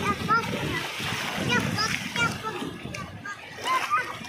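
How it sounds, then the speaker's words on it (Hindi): Water splashes and sloshes close by in short irregular bursts, mixed with children's voices and adult talk. "छपक कर दो"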